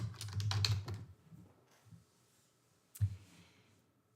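Quiet, close typing on a computer keyboard: a quick cluster of key clicks, a pause, then a single sharper keystroke.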